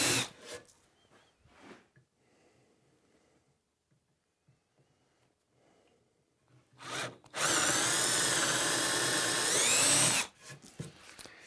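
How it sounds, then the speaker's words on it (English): A power drill bores a 9/32 inch hole through hardwood in a shop, one loud, steady whine lasting about three seconds, framed by quieter handling knocks and clatter before and after. "Then I'm going to drill a 9/32 inch hole just through the hardwood."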